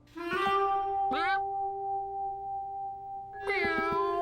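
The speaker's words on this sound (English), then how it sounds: "He'd never given Cat a bath before" A cartoon cat meows just before a bath, with short chirpy meows at the start and a long drawn-out wavering meow that ends in another burst of mewing, close and clear.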